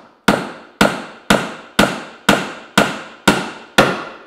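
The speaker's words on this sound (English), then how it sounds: "so I drive this pin in here now" Eight sharp, evenly spaced mallet or hammer blows drive a wooden pin into a drawbore mortise and tenon joint, each strike loud and close with a short ringing decay, no voices.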